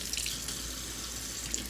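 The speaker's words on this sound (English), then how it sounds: "I'll rinse them out really well, back and forth, rinsing with the water" Tap water runs steadily into a sink while paint brushes are rinsed back and forth to work the soap out, a continuous close splashing hiss with faint drips.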